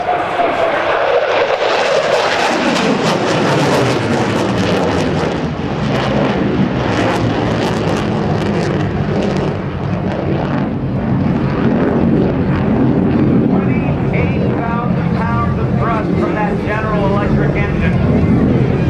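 An F-16 Fighting Falcon jet passes at the NAS Oceana airshow as a loud, continuous engine roar that sweeps down in pitch as it flies by, with an announcer talking over the noise.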